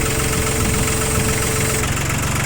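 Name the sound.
3-cylinder 4WD loader tractor engine running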